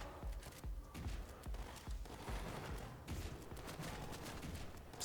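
Shotgun blasts ring out in the game Shot Gun Cop Man, a rapid run of sharp, punchy shots mixed with fast stepping and clatter, loud and dense, with no speech.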